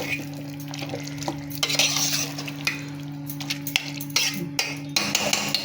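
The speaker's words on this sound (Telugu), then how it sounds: "కర్రీ అంతా కలిపేసుకుందాము" Mushroom curry is stirred in a pan, with a spoon scraping and clinking against the metal in irregular strokes over a soft sizzle and a steady low hum nearby.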